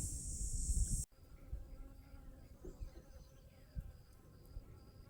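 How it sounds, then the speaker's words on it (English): Soft bee buzzing hums at close range in a garden, drifting in and out over quiet outdoor background after a brief louder burst at the start. "Buzzing busy bees."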